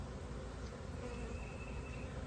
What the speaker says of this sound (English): there's still, you know, a couple handfuls of flying bees around